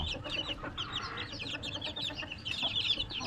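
Young chicks and chickens on a poultry farm make a busy stream of high, rapid peeps and chirps mixed with soft clucks. The flock sounds moderately close and continuous, with no talking.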